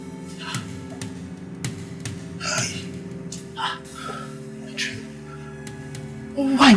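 A woman pants heavily after waking from a bad dream, with a series of close, uneven gasping breaths over a low steady background hum.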